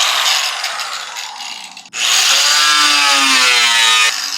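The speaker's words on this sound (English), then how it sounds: "It's a cheap ass Wind rotary tool that I bought off of Amazon." Cheap Wind rotary tool with a cutting disc whining steadily as it slices through a plastic GT500 rear valance with diffuser, loud and close, briefly stopping then spinning back up into a sustained high-pitched grind.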